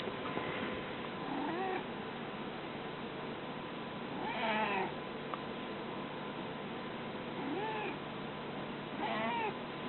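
Cat meowing, four drawn-out meows spaced through a quiet room tone, close and fairly faint, with no talk.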